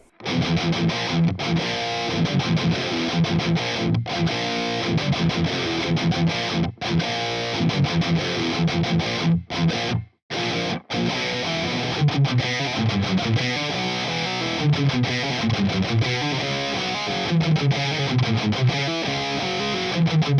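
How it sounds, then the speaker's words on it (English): Electric guitar played with a thick, aggressive metal tone through an Orange Super Crush 100 amp, loud and continuous with heavily distorted chugging riffs and brief stops, no talking. "that really is a fat sort of metal tone that's really aggressive and everything"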